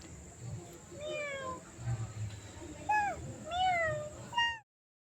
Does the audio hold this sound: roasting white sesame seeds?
no